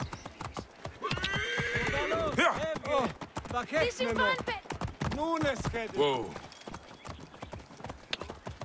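Horse in the video game Assassin's Creed Origins: rapid galloping hoofbeats with loud, wavering whinnies and neighs close up, with a brief voice exclamation.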